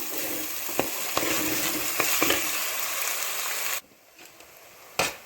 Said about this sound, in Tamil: இதை வந்து வெங்காயத்தை நல்லா வதக்கணும்